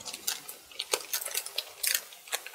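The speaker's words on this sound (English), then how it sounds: "Let me grab another cable tie." A plastic cable tie is handled up close, giving soft scattered clicks and rustles, with a few sharper ticks among quiet handling noise and no speech.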